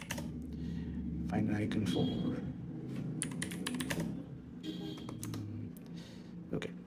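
Keystrokes on a computer keyboard while entering text in Adobe XD, with clustered taps in bursts under steady talking by a nearby voice.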